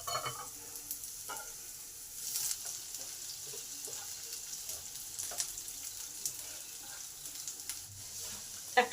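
Onion, garlic and ginger fry lightly in a pan of oil with a soft, steady sizzle, broken by scattered clinks and stirring scrapes, all fairly faint.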